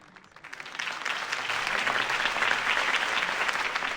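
Crowd applause after Harvey Dent's campaign speech in the Batman Telltale Series video game, with clapping swelling from a few scattered claps into a loud, dense, sustained ovation.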